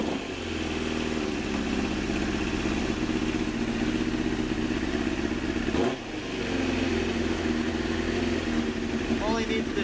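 A 2001 Kawasaki Ninja ZX-9 motorcycle engine cold-starting with the choke on, a loud steady close idle with a brief dip partway through, with no talking.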